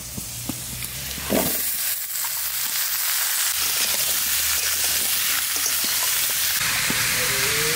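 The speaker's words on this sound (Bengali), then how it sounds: "আলুটা একটু কষা কষা হয়ে গেছে, এইবার দিয়ে দেবো চাল কুমড়ো" Ash gourd goes into a pan of sautéed potatoes with a sudden burst of sizzling, which settles into a steady, loud frying hiss with occasional stirring scrapes. No one speaks.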